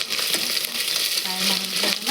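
Garlic paste frying in oil for a pulao, a loud steady close sizzle with stirring scrapes running through.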